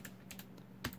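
Quiet keystrokes on an Anidees Prismatic wireless mechanical RGB keyboard, a few soft clicks in quick succession over a low background hum.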